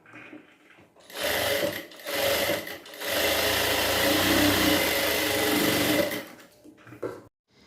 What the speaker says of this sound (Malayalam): ഇനി നമ്മൾ ഫസ്റ്റ് അടയാളപ്പെടുത്തിയ ആ മാർക്കിലേക്ക് തന്നെ സ്റ്റിച്ച് ചെയ്ത് പോവാം